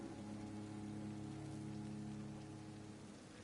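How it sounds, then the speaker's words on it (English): Rain falls in the Vampyr video game as a soft, steady hiss of drops on surfaces, faint and even throughout, with no voices. "The weather's like raining and shit, didn't realize."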